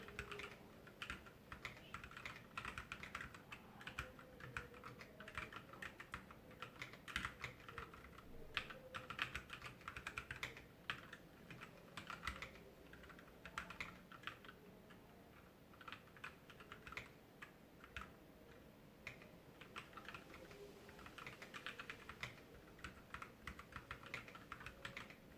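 Steady typing on a Moonlander split mechanical keyboard, with dense, continuous key clicks and clacks in a fast, even rhythm that pauses only briefly. The sound is close and fairly quiet, with no talking.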